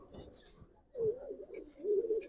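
Giribaz pigeons at a pigeon farm give low, soft cooing calls in two short bursts, close by against a quiet background.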